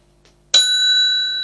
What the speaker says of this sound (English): new feature bell. That means there's a new feature.